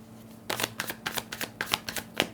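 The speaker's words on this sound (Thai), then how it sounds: "ขอไพ่แนะนำให้ดินหน่อย" Tarot cards are shuffled by hand in quick papery riffles and soft slaps, an irregular run of close, fairly quiet flicks with no voice over them.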